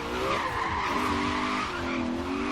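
A BMW 335i in Forza Horizon 3 skids with a sustained tire squeal over a steady engine drone that shifts pitch, loud and close, with no voices.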